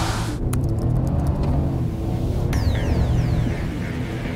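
A 3.5-litre V6 Toyota Camry sedan pulls away steadily, its engine giving a smooth, loud, continuous throbbing hum and rumble close by without speech.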